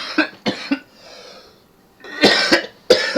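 Harsh, close coughing after smoking government weed: a quick burst of three coughs, a brief wheezy breath, then two more hacking coughs, loud and with no talk.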